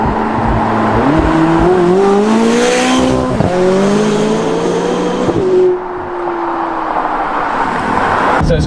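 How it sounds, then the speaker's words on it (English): McLaren 570GT sports car in manual mode accelerating hard through several gears, a loud close engine note rising in pitch with each shift and turbos spooling, with no talk over it. "And now I'm in manual. So here comes the turbos."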